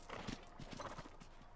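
A horse in Zelda: Breath of the Wild, one with a brightly glowing mane, gives quick faint hoof clops in a short uneven rhythm, fairly soft and close.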